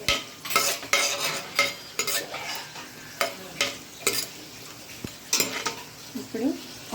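Cashews and whole spices frying in hot oil, stirred in a pan for prawn pulao: rhythmic scraping strokes of a spoon over a bright sizzle, close and fairly loud, with occasional clinks.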